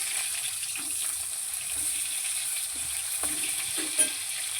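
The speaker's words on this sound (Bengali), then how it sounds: "এবার বেগুনগুলো ভেজে নেব।" Eggplant pieces frying in hot oil give off a soft, steady sizzle and hiss throughout, with a few faint clinks of stirring.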